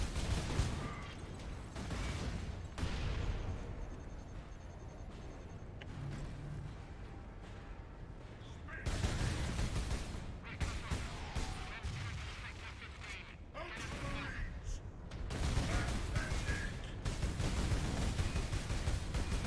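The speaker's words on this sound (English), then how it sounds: "Another Havoc, we're using a las cannon this time." Heavy lascannon fire from a Warhammer video game comes in loud, broad blasts and crackling bursts with quieter stretches of battle noise between them.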